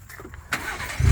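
A Ford Raptor pickup truck's engine cranks and fires, a short whirr of the starter that jumps into a louder, low rumble as it catches, heard close by.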